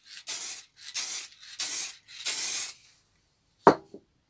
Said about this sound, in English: it's just a case of spraying it on like that